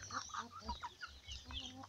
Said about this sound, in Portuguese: Aqui tá o galo, como todo mundo já conhece.